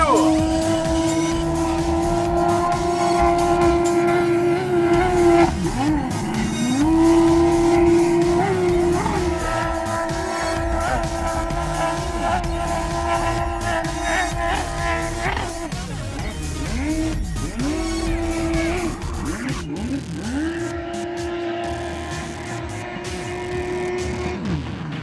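Car engine revving and accelerating loudly up close, its pitch climbing and dropping across repeated pulls, with brief voices mixed in.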